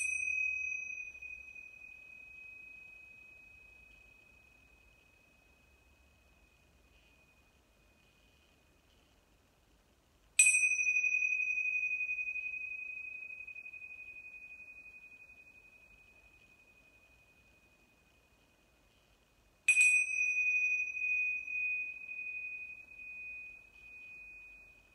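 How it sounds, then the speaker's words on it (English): Meditation chime rung during a home yoga class over Zoom: three clear, pure metallic strikes spaced about ten seconds apart, each tone ringing on and slowly fading in near silence. "First chime coming up."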